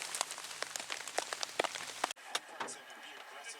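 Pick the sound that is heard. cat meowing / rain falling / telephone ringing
rain falling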